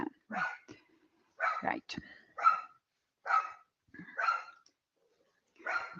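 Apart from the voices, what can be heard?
dogs barking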